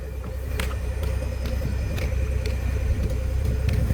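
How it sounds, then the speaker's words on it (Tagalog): A big truck rumbles past on a road, a steady loud low engine drone with faint clanks over it, lasting throughout with no talk. "May malaking truck mga kababayan."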